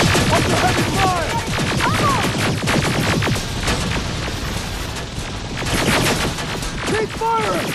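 Dense, loud gunfire in the Terminator: Resistance game, with rapid overlapping automatic bursts and sharp shots continuing throughout, plus shouted voices and whining energy-weapon sounds mixed in.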